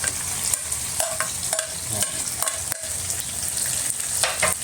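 Tomatoes sizzle in a hot pan while bagoong alamang is cooked, with loud crackling frying and repeated scraping clicks of a spoon or spatula stirring at a close, irregular rhythm.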